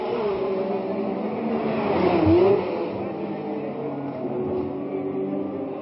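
Race cars at the 1967 Monaco Grand Prix passing on the street circuit: a distant engine drone swells into one car rushing by midway, then fades back to a steady hum, with faint background talk.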